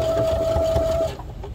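A sewing machine runs a fast, steady stitch through thick webbing for a garden kneeling pad, a close, even mechanical whir lasting about a second before stopping.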